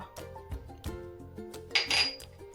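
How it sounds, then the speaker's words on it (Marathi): A pestle pounds carom seeds and cumin in a mortar, giving irregular dull thuds and metallic clinks at close range with no talking. "हे जिरं असं अर्ध बोबडं कुटून घ्यायचं आहे"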